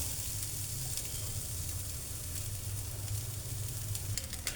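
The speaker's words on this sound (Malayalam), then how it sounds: "തേങ്ങ നമുക്കൊന്ന് മൂപ്പിച്ച് പിന്നെ എടുക്കാം. ചെറുതായിട്ടൊന്ന് മൂത്താൽ മതി." Grated coconut roasting in a pan gives a steady, close sizzle that runs the whole time, with faint stirring scrapes and no voices.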